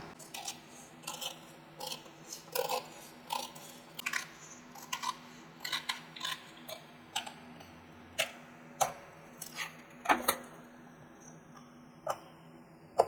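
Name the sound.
scissors trimming glued paper edge of composition book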